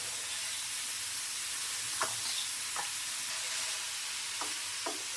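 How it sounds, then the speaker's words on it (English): Pre-chopped onions frying in a pan with rice and sauce for pork rib fried rice, a steady soft sizzle with a few scattered spatula scrapes, no voices. "Just going to add some onions that I had already chopped up here."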